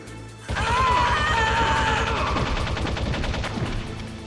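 Rapid gunfire from the video game Metal Gear Solid, a loud sustained burst of regular shots over game music and sound effects, with no talk.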